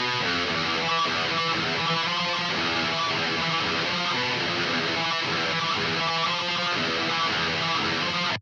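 Dense, distorted black metal rhythm guitar using the 'Ye Are Entranced' preset on an Archetype Nali X amp sim. Four layered rhythm tracks form a fast continuous wall of tremolo-picked chords, loud, with no talking, until it cuts off.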